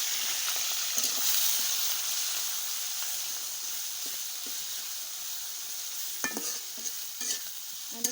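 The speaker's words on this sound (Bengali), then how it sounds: "পেঁয়াজ রসুন একটু ভাজা ভাজা হয়ে গেছে" Onion and garlic paste frying in oil alongside fish gives off a steady, moderate sizzle, with occasional stirring scrapes and clinks toward the end.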